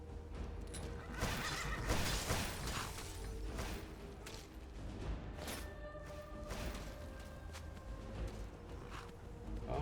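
A horse neighs and whinnies loudly in a video game, with hoofbeat clip-clops and a busy game soundscape around it, repeated whinnies standing out over the first few seconds.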